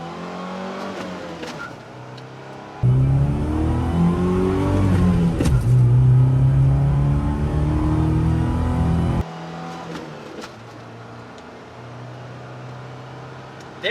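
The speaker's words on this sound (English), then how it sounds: "chirping the tires in a 2-wheel drive 4-cylinder stick shift Ranger" A 2-wheel-drive 1999 Ford Ranger pickup with a 119-horsepower 4-cylinder and stick shift revs hard and accelerates, the engine note rising through a loud, close surge before dropping back to a lower drone as it shifts.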